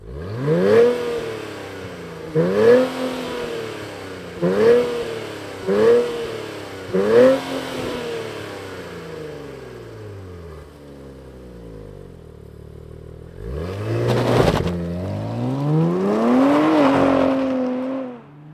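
A 2024 Nissan Z NISMO engine starts and is revved repeatedly in five sharp blips that rise and fall in pitch, then settles to idle before a longer, louder rev climbs and holds near the end. The sound is close and prominent, with no talking.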